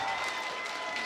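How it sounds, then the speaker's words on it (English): Crowd at a Tekken 7 tournament top 8, a loud wash of applause and cheering that holds steady for a brief second. "But the crowd is getting hyped."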